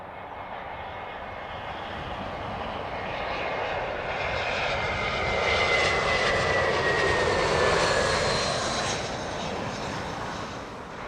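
Kuwait Airways Boeing 777-300 jet engines at Heathrow Airport, a loud, sustained roar that swells toward the middle and eases off near the end, with a whining high tone sliding across it and faint voices underneath.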